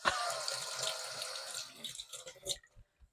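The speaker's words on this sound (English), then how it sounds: "now I need to wash my hands" Kitchen tap water runs steadily into a sink during hand washing, a continuous hiss with light splashing that thins and sputters off near the end.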